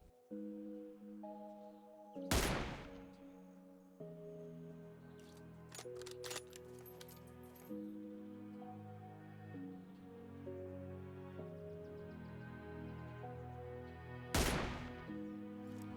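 Two loud sniper rifle shots in PUBG Mobile, fired from high ground at a target far below, spaced about twelve seconds apart, with quieter game ambience and music-like tones in between.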